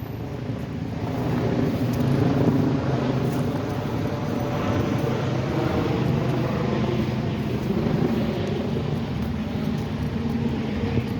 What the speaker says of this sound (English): I can't make out what helicopter that is up there.